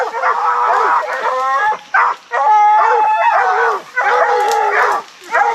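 Hunting dogs bay and howl on a track in Louisiana, several voices overlapping in long, loud, drawn-out bawls with short yips, close and continuous with only brief gaps.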